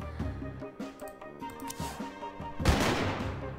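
Gunfire in the video game Mafioso: Gangster Paradise, heard as a sharp, loud blast near the end, set against a steady game music track with sustained tones.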